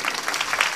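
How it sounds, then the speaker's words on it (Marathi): Listeners at a Marathi kirtan devotional gathering clap together in a short, loud burst, with many hands patting quickly and unevenly close by. "टाळ्या वाजवा ना जोरदार."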